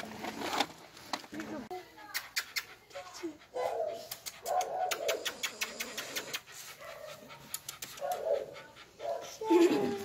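Puppies and their father dog in a makeshift shelter, giving soft whimpers, pants and a few yips close by, mixed in with steady talking throughout.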